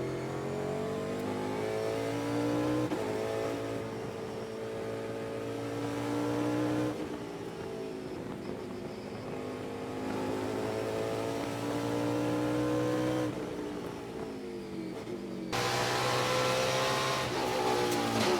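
Onboard a Trans Am TA-class race car lapping Thunderhill, the engine revs up and down through repeated gear shifts, a close, loud, steady mid-pitched roar with no talking.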